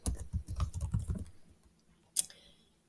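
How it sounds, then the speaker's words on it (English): Fingers type a short burst of rapid clicks on a computer keyboard, then pause before one final sharp keystroke, close and clear in a quiet room. "Let's type in x-ray."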